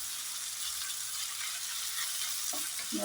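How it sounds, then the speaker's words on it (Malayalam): Onions and garlic-ginger paste fry in a pan, a continuous close hiss of sizzling oil, with a brief stir near the end and no talk. "അതിലേക്ക് ഞാൻ ഇതൊന്ന് ഇളക്കി കൊടുത്തിട്ട് നമുക്ക് തക്കാളി ഇടാം"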